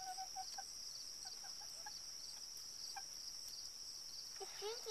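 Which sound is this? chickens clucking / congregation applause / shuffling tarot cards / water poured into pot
chickens clucking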